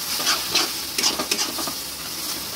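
Chili-heavy spice masala frying in a pan for a chicken dish, a soft sizzle broken by a few scraping stirs of a spoon, close and fairly quiet, with no voices.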